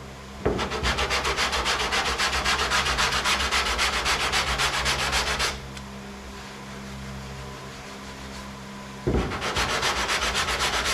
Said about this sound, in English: just sanding down it that little bit